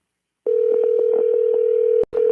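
A telephone dial tone sounds during a call-in show: after a moment of silence, a steady, loud, unbroken tone starts, cuts out briefly near the end, and resumes.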